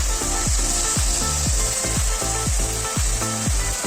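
Spice masala sizzles steadily in a hot pan after a splash of water, with a loud continuous fizz and a run of regular scraping strokes from stirring, about two per second.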